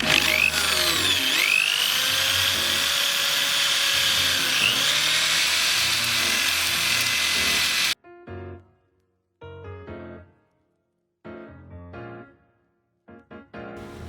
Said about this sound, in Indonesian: Ember bagian atas tempat cairan POC akan terlindih, kemudian dilubangi dengan rata menggunakan bor.